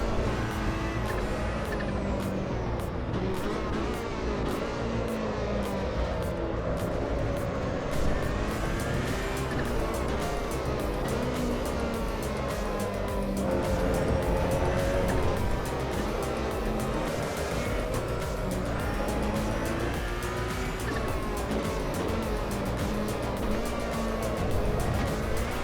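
Race car lapping in Assetto Corsa EVO, a continuous loud engine drone rising and falling through gear changes, with tire squeal and steady rhythmic ticking throughout.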